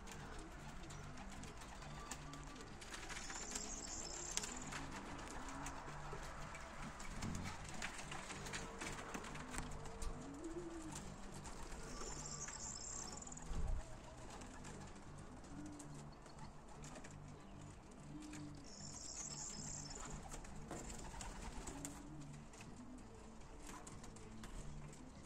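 Young racing pigeons in a loft, about twenty birds, cooing in repeated soft rolling phrases that overlap steadily and close by, with occasional rustles and brief higher calls.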